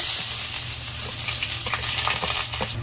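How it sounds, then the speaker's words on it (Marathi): Onion and five-spice (panch phoron) hitting hot oil in a pan for an arbi vegetable dish: a dense, loud, continuous sizzle with small crackles and spatters close by, and no talking. "तेल गरम झालं माझं, हे मी 5 पुरण टाकते तेलामध्ये आणि हे एक कांदा टाकते"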